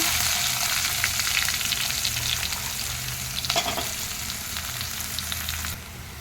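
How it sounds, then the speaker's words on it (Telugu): Sliced onions and cumin seeds fry in oil in a pan, a loud, steady sizzle close up, broken by a few brief stirring scrapes and crackles and easing slightly toward the end, with no talking. "ఆనియన్ లైట్గా ఫ్రై అయిందండి."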